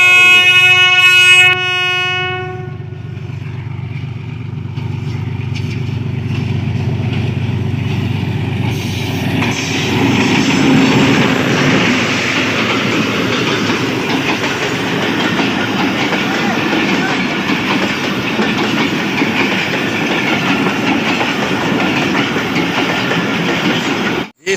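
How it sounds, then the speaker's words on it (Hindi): A train pulls into Dunyapur station in Pakistan, opening with a few close horn blasts before a loud, steady rumble and clatter of carriages rolling past. "देखें ये सामने ट्रेन।"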